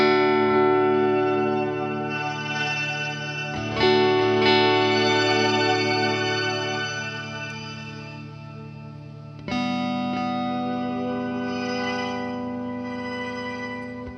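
Guitar played through a Boss DD-200 delay pedal set with reverb and tone controls, sustained chords ringing with echoing repeats and a bright wash, restruck twice with steady loud sustain and no talk.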